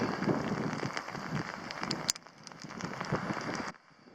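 Steady rain patters densely on a surface, close and fairly loud, on a hiking trail at Pollett's Cove, Cape Breton, Nova Scotia, with a sharp tap midway before the sound cuts out near the end.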